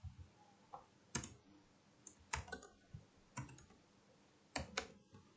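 Computer keyboard keys tapped in short irregular bursts, close and crisp, as code is entered, with brief pauses between clusters of clicks.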